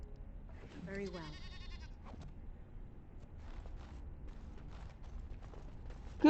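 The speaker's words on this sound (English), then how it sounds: "in the world do I hear goats," Goats bleating in the video game Dragon Age Origins, a clear wavering bleat up close followed by quieter shuffling and footsteps, with speech faint underneath.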